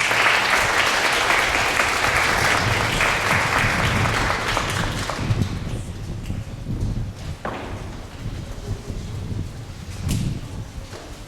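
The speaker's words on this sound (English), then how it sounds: "Can we please have a round of applause for our award recipients?" Dense audience applause at a school presentation day assembly, loud and steady for about five seconds before thinning into scattered claps, shuffling and a few thuds.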